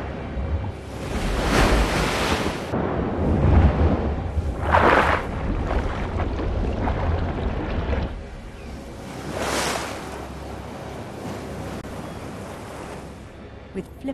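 Ocean surf rolls onto a sea-turtle nesting beach in loud, close swells that rise and fall every few seconds, with wind buffeting the microphone and no voices.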